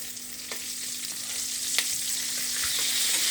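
KFC-style chicken fries in hot oil with a steady, bright sizzle throughout. Occasional soft pops and taps rise from the bubbling, and no one speaks.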